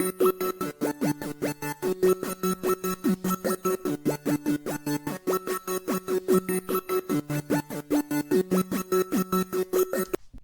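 A synth pad on two octave chords, chopped by a half-beat gate into a steady pulsing on-off rhythm, repeating evenly for about ten seconds, played alone without talking, for a trap beat.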